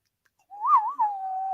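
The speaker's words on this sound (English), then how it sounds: "I love that whistle." A single clear whistled note from the soundtrack of the 1980 film Hawk the Slayer, wavering and then holding steady, alone and fairly loud.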